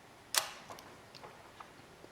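The film-advance knob on a Kiev 4M rangefinder camera turned to wind the film and cock the shutter, giving one sharp mechanical click followed by several faint, close ticks from the winding mechanism.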